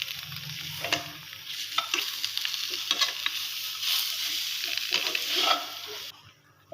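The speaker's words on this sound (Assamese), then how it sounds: "10 মিনিট পিছত মই এবাৰ লটাই দিম টোপোলাটো" A small parcel of fish wrapped in leaves sizzles and fries in a pan, with scraping and shifting as it is turned over; the steady crackle runs throughout, then drops away near the end.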